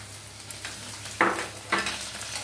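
Chopped potatoes tumble into a pan of lightly browned onions frying over high heat for chivda poha, giving a steady close sizzle with two sharper bursts as pieces land and get stirred, no voices.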